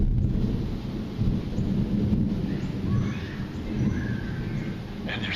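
A long roll of thunder rumbling low and steady at an RV resort campground on Hilton Head Island under dark clouds, a continuous deep growl filling several seconds with faint bird calls above it.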